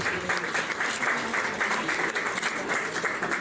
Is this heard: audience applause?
yes